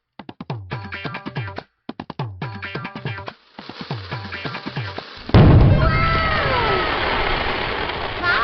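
A sky shot firework is lit and launches with a sudden loud whoosh, then bursts with crackling and whistling trails that fill the rest of the moment, after earlier intermittent crackling pops and a voice nearby.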